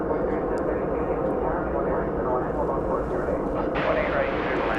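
A Boeing 737 MAX 9 at DFW Airport gives a loud, continuous jet-engine roar. The broad rumble holds steady throughout and shifts slightly in tone near the end.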